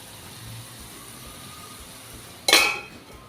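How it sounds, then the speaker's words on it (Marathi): A lid set onto a pan of cooking fish roe masala, a single sharp metallic clank near the end over a quiet background with a faint sizzle. "आणि आता एखाद मिनटं मी ह्याला झाकण लावणार आणि मस्त वाफ देणार आहे"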